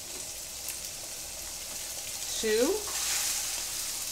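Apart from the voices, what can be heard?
red snapper fillets frying in hot oil in a pan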